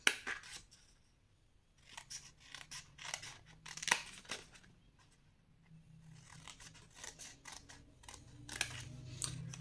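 Scissors cutting paper to make advent calendar boxes: many quick, crisp snips in uneven runs, close and fairly quiet, with brief pauses between cuts.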